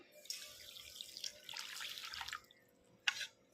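Milk poured into a cup while making a semolina sweet, a soft steady liquid stream in two close bursts followed by a brief splash, quiet and alone.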